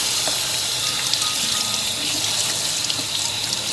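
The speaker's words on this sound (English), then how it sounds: "So I am pouring out their juice." Liquid poured out of opened cans of corn and carrots, a steady splashing gush of juice into a sink, continuous and close.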